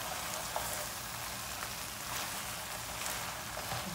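Eggplant with minced chicken adobo is stirred in a pan over the heat, making a soft, continuous sizzling hiss with a few faint scrapes, with no one talking.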